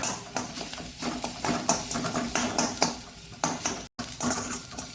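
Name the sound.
ground masala being roasted and stirred in a pan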